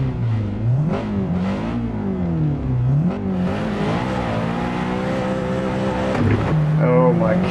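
A Honda Integra Type R races in Assetto Corsa, its engine revving loudly with rising and falling pitch through gear changes, steady and close for several seconds.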